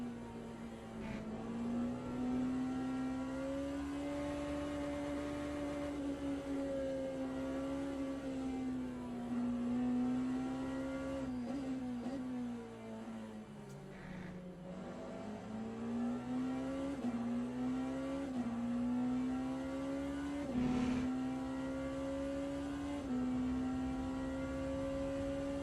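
Race car engine in the racing video game Le Mans Ultimate at Fuji, a loud steady drone that rises and falls through shifts and revs, with no talk over it.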